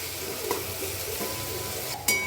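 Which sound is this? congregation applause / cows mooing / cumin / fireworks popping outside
cumin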